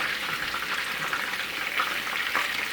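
Chicken cutlets for Chicken Francese fry in a pan with a steady bright sizzle, close and continuous, no talking.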